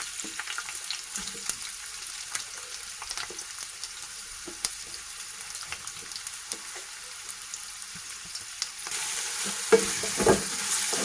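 Chopped onions fry in a kadhai for butter chicken gravy, giving a soft, even sizzle scattered with light stirring clicks, which grows louder and fuller near the end with a few sharper scrapes.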